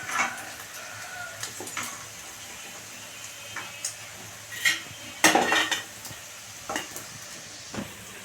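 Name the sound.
fried dried prawns being scooped from the pan into a bowl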